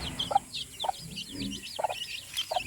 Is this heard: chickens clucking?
yes